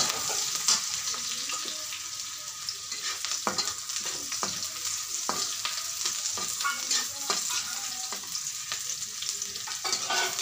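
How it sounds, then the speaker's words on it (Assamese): Onions frying in a pan for an Assamese-style fish curry, a steady close sizzle with frequent scrape-and-clack strokes of a spoon stirring, no voices. "এয়া পিঁয়াজখিনি ভাজ খাই গৈছে ৰঙাকৈ ধুনীয়াকৈ"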